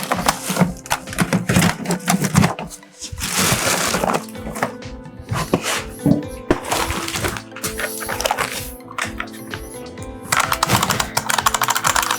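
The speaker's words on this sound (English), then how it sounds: "A mechanical IBM keyboard." Mechanical IBM PS/2-era keyboard being typed on, with dense, irregular clacking keystrokes running steadily throughout at close range, a few brief pauses between bursts, and no voices.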